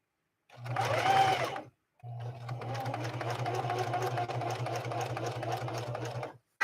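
A Singer 4411 heavy-duty sewing machine runs straight stitches, a loud steady motor hum in two bursts, a short one and then a longer continuous run, with no talking.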